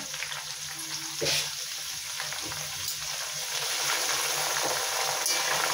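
Curry leaves crackle and sizzle in hot oil for a Marathi murmure chivada, a steady loud frying hiss with a sharper burst as more leaves drop in and stirring scrapes through.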